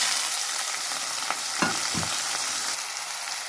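Onions and green chillies sizzle steadily in hot oil in a pan, a constant close hiss with a few soft spoon scrapes and taps partway through.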